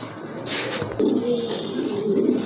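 Pigeons coo softly and repeatedly close by, low murmuring calls running steadily with faint shuffling and some background voices, among a pair of Chila pigeons being shown for sale.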